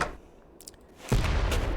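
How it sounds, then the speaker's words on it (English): A sudden explosion in a Nancy Drew video game set at Icicle Creek, a loud low boom that bursts in after near-silence and rumbles on to the end, with no talk. "That was an explosion."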